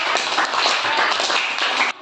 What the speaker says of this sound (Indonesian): Tepuk tangan untuk Lila